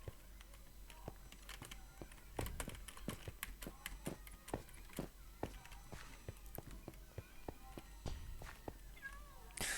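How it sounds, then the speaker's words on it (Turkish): A cat meows faintly in the video game Minecraft amid a steady run of footsteps and sharp clicking taps, with no voices. "Şurada miyavlama sesi geldi dur."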